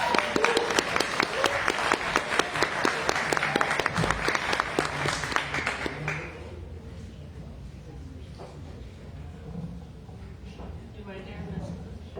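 Audience applause at an open mic night, a dense burst of clapping and cheers for the next performer that fades after about six seconds into quieter room noise with some talk.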